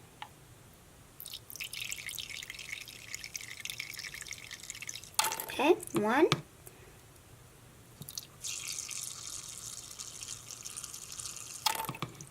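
Contact solution is poured into a slime mixture in a few separate bursts of thin liquid trickling and splashing, quiet overall, with a voice briefly counting.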